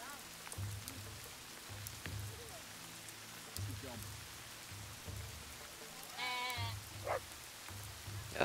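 Sheep in the video game Dawn of Man bleat in a few short calls over a steady rhythmic game ambience with soft patter, fairly quiet overall.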